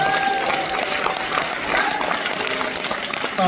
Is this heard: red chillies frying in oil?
no